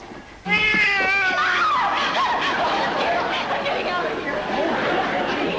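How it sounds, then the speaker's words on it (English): A cat yowls with a drawn-out, wavering meow near the start, then noisy commotion and overlapping talk follow in an old television comedy scene. "it was only a cat"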